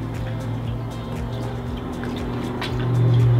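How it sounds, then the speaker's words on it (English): A dog named Napoleon laps water close by, a soft liquid rhythm of repeated licks over a steady low hum. "And there's Napoleon drinking some water."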